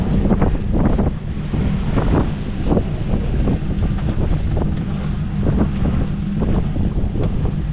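A deep, loud rumble from four motorboat engines runs continuously on Biscayne Bay, with wind buffeting the microphone and splashing water, no talking.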